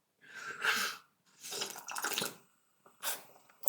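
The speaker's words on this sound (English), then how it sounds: "Excuse the slurping." Several loud, wet slurps of coffee come close up, separated by short pauses.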